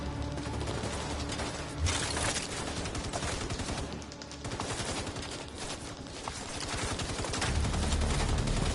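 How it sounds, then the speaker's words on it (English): Rapid, dense gunfire rattling almost nonstop during a fight in the video game The Division 2 Warlords of New York, steady automatic bursts at moderate level with no pause across the whole stretch. "Who the heck is shooting?"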